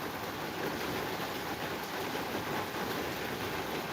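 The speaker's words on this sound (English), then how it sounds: "We got plenty of rain, so if y'all like the sound of rain, you're in the right place." Steady rain falls outdoors in an even, continuous hiss with no pauses or clear individual drops, fairly close and loud, and no voices are heard over it.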